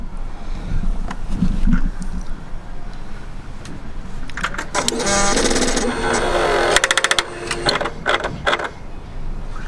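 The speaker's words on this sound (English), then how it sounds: "it's like a woodpecker sound followed by and almost a sound of it trying to turn" Rapid mechanical clicking, like a tapping woodpecker, comes in bursts, followed by a strained whirring as the exhaust valve servo motor on a K1/K2 Suzuki GSX-R motorcycle tries to turn.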